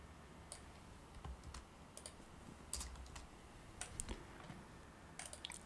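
Typing on a computer keyboard: quiet, irregular bursts of key clicks and taps, close and faint, with brief pauses between clusters.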